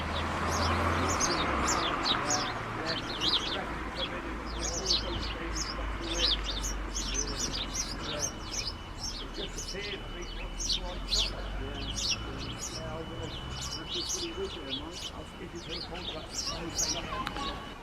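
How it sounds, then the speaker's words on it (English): Small birds chirp and twitter busily in a nearby bush, with a low murmur of voices and background noise underneath, at a West Somerset railway station. "Just to hear the little birds chirping away in this bush."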